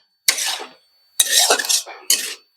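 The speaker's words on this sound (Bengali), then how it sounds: "এখন আমি এটাকে একটু নাড়াচাড়া করে দিলাম" Tomato chutney stirred in a pot, three separate bursts of spoon scraping against metal, close and fairly loud, with silence between strokes.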